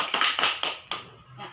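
Short burst of applause from a classroom audience for a presenting group, several quick claps close by that fade out within a moment.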